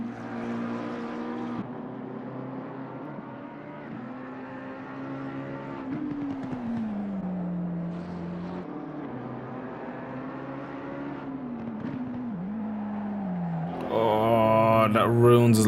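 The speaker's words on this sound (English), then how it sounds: "Ah, V10 sounds epic, doesn't it?" A V10 McLaren race car engine in Assetto Corsa Competizione at Brands Hatch, droning loud and steady with pitch rising and falling through gear changes, growing louder and harsher near the end.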